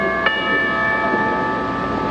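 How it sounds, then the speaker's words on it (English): Bell chimes sounding as a comic heart check-up on a TV sitcom, a single struck chime at the start whose sustained tones ring steadily on, fairly loud and alone. "Just as I thought. He has chimes."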